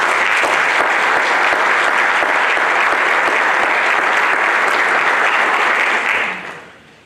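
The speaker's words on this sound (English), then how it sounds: "let's give an applause here to Brady Harrington for sharing his talent with us" A hall of fame induction ceremony audience gives sustained, full applause in a large room, steady throughout before fading out at the end.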